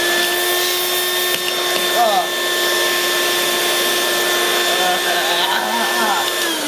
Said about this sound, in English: You are going to be sucked up by the vacuum cleaner.